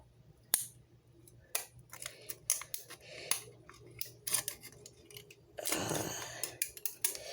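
Scissors snip repeatedly through homemade fishing lure material, close and crisp, in a series of sharp irregular cuts with brief pauses between them.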